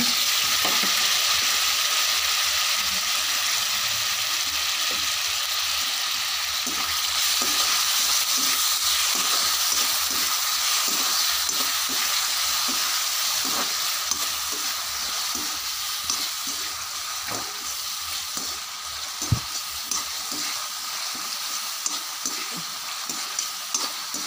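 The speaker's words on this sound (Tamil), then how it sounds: "இப்போ நம்ம தக்காளி போட்டுடலாம்" Tomatoes frying in a pan for a squash dish, giving a steady bright sizzle with frequent small crackles and the odd stirring tap, close and continuous throughout.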